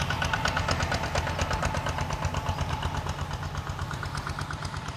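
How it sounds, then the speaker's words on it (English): A tractor engine on a Cambodian beach chugs and knocks with a fast, steady mechanical rhythm, loud and close, with no voices over it. "there are tractors that go up and down the beach"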